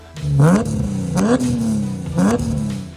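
A BMW M3 with a newly fitted exhaust revs hard three times in quick succession, each throttle blip rising to a loud, raspy roar before dropping back to a rumbling idle.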